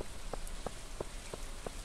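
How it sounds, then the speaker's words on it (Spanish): Steady rain falls in the Stardew Valley video game, a constant soft hiss with light, evenly spaced taps rising through it. "está lloviendo"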